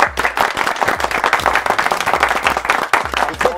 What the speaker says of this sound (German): ich will tatsächlich jetzt irgendwann mal einen Applaus einspielen